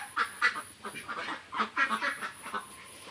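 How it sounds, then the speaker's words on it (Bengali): Ducks quack repeatedly in short, close bursts while eating paddy rice, with a steady high whine running underneath. "হাঁসকে ধান খেতে দিছি"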